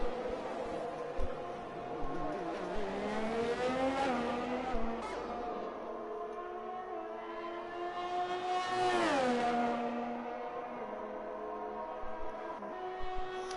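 An F1 car in an F1 video game at the Canadian circuit, its engine whining and rising through gears, dropping and climbing again in several sweeps, heard close and steady.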